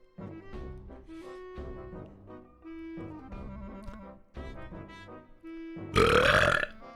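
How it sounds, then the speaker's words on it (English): Repeated voiced burps forced on command by a streamer, a series of croaky belches of varying length, close and loud, ending with a louder, rougher burp. "I can burp on command."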